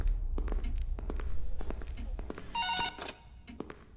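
A telephone rings in the horror video game Forgotten Memories, a bright electronic trill bursting in for about half a second amid low rumbling ambience and scattered footstep-like knocks.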